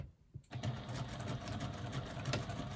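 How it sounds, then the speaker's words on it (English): A sewing machine stitches across the bottom of a fabric card slot with a steady, close mechanical whirr and rhythmic needle clatter, starting after a brief quiet moment and running without pause. "And then stitch across the bottom of that back card slot"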